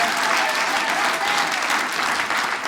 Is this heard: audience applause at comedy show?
yes